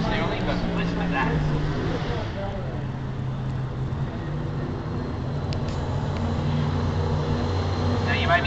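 A 1955 Chevrolet drag car at Sydney Motor Sport Park starts up and settles into a steady, throbbing engine idle, with someone talking over the sound throughout.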